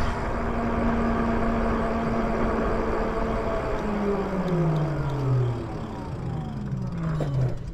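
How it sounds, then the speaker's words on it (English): An ebike slowing under regenerative braking gives off a descending electric motor whine that glides down in pitch over several seconds, heard over steady road and wind noise while riding. "That was all regen braking right there."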